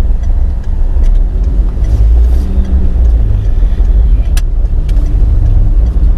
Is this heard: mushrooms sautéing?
no